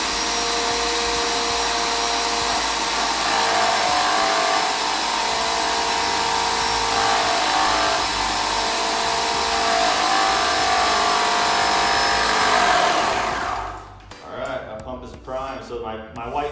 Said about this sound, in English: So my white paint, it was sucked up through the draw tube here into my pump and then out my priming hose